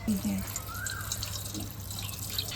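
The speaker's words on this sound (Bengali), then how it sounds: "এই দেখুন ডাবটা ফুটো করে দিয়ে, তো এখন ডাবটা একটু আমি ছেঁকে নিই" Water from a punctured green coconut strained out while making coconut pudding, a soft trickling and dripping over a steady background hum.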